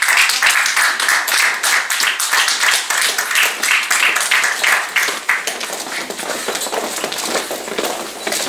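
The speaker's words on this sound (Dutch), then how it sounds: "Graag jullie applaus!" Audience applause at a beauty pageant press presentation, dense steady clapping close by that thins slightly toward the end, with no voices over it.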